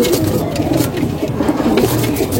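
Original Punjabi Malwai pigeons coo softly and continuously at close range, their low burbling calls overlapping with faint background noise.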